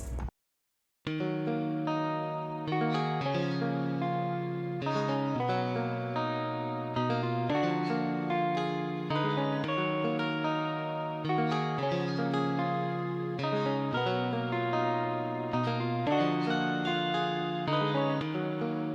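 An Electric Mint guitar preset from Session Guitars in Kontakt plays an afrobeat melody, a steady run of bright plucked notes and chords that starts after a brief silent gap and continues alone to the end.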